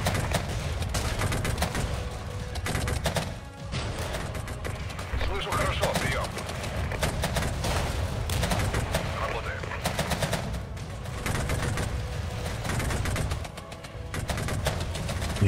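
Dense, continuous gunfire and heavy artillery from a battle in the video game Regiments, loud and sustained throughout with rapid overlapping shots and a few brief dips.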